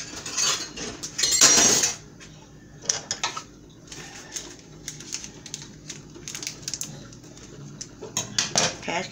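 A big pan is handled in a home kitchen, with metallic clanks and scraping, a louder rattle early on, then scattered clinks of pans and utensils; a voice speaks briefly.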